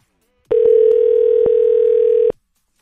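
A telephone dial tone: a single steady, clean tone lasting just under two seconds, with a few soft clicks on the line, starting and stopping abruptly in otherwise silence.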